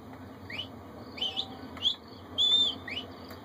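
A series of short, bright whistled chirps in Red Dead Redemption, some rising and one held longer, repeated over a faint steady background.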